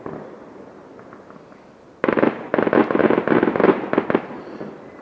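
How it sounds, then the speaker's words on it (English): Fireworks going off during a Bonfire Night display on the 5th of November: a faint distant rumble, then from about two seconds a dense run of loud crackling bursts and pops in quick succession. "This is a firework display"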